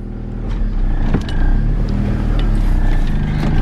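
A Honda X car with a manual gearbox pulls away in first gear, its engine a loud, close, steady drone that rises slightly as it moves off, with no voices.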